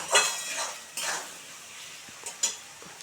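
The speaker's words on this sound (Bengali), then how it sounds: "আলুটা ভালো করে একটু সুন্দর করে ভেজে নিই" Potatoes fry in a pan over a raised gas flame with a soft sizzle, and a few scraping stirs and metallic clinks of a spatula come and go. No one speaks.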